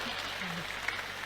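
A crowd's clapping fills the room as a steady wash of hands, with a voice talking faintly underneath.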